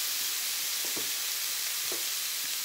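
Ground beef sizzles in a hot skillet with a steady, bright hiss, joined by a couple of soft stirring scrapes.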